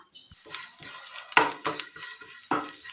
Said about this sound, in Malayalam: ഇനി ഇത് നന്നായി ഒന്ന് ചതച്ചെടുക്കാം